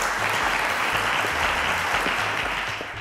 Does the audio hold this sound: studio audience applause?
yes